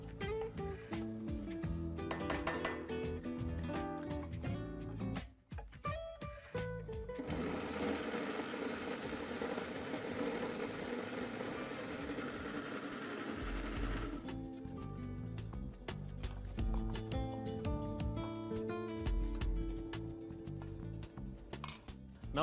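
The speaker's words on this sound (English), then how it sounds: "Now this goes into the mixie to be made into a masala or spice base." A mixie grinder whirs as it blends browned spices into a masala paste for Bagara Baingan, a loud continuous motor hum rising into a dense steady grind mid-stretch before dropping back, with clattering between runs.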